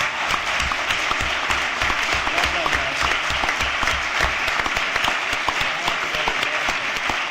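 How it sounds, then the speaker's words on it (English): Sustained audience applause fills the room after a candidate for governor of New Jersey finishes his remarks, steady and dense for the full stretch with no voices over it. "would you give everyone an applause?"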